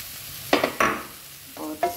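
Oats roasting in a pan as a spoon stirs them, giving a few distinct scraping, rattling strokes over a soft sizzle, with short pauses between stirs.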